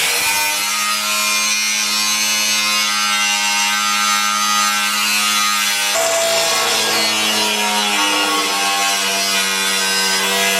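A power tool cuts through a car fender, a loud continuous grinding whine with steady harmonic tone, pitch shifting partway through as the blade load changes.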